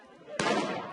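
A single sharp starting gun fires at the Seoul International Marathon in Gwanghwamun Square, a loud crack from a crowded outdoor start of 38,000 runners, followed by sustained broadband crowd noise.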